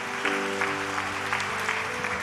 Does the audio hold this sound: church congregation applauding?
yes